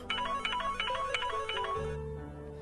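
A telephone rings with an electronic ringtone in a French-dubbed drama, several short bright chirping bursts repeating in a steady rhythm before a low tone takes over at the end.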